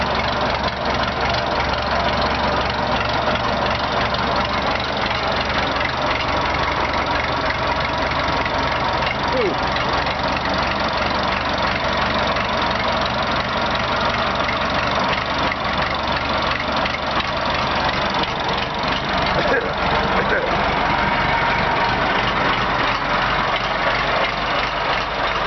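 An engine idling steadily while warming up outdoors in the rain, a continuous low rumble with a faint knocking texture that holds evenly throughout, with rain and ambient noise mixed in.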